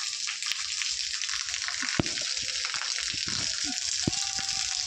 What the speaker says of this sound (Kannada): ಮಳೆ ಎಷ್ಟು ಜೋರಾಗಿ ಬೀಳ್ತಾ ಇದೆ